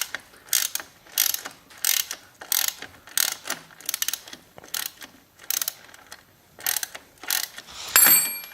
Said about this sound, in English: I'm going to find the socket and get that off.